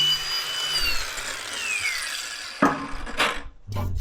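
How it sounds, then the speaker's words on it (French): Welds on the hydraulic cylinders of a backhoe are ground with a power tool, giving a steady high whine that winds down, then a few sharp, close knocks and scrapes of metal. "Maintenant, meule nos soudures."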